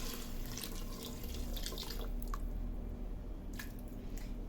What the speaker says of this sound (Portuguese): vou colocar água aqui para cobrir